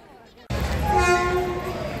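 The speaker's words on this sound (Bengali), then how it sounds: "ট্রেন আমাদের ছেড়ে এগিয়ে যাচ্ছে আগের দিকে" A train pulling out of Rampurhat station: after a quiet half second the heavy rumble starts abruptly, and a loud sustained horn tone rises over it and holds to the end.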